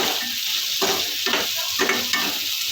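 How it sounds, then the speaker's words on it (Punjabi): Masala spices for soya chaap fry in a pan over a full gas flame, a loud steady sizzle close up with stirring scrapes repeating about every half second. "ਸਾਰੇ ਮਸਾਲੇ ਨੂੰ ਆਪਾਂ ਫਿਰ ਗੋਲਡਨ ਕਰਨਾ"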